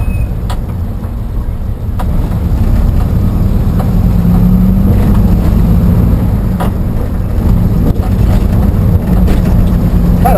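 Volkswagen Kombi van fitted with a Monza steering box driving through a neighbourhood and accelerating, giving a steady, loud engine and road drone with wind buffeting that continues throughout, with no talking.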